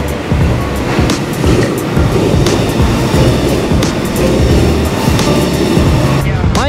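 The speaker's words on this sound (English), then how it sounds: "see the train coming in front of me right now" A high-speed train in China, running at about 350 km/h, passes as a loud, steady broadband roar and rush that continues through the whole stretch with no talking.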